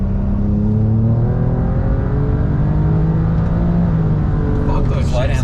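A BMW N54 engine fitted with hybrid turbos pulls hard at full power, a loud, steady in-car engine drone with rising harmonics and a gear shift near the end, while people talk over it.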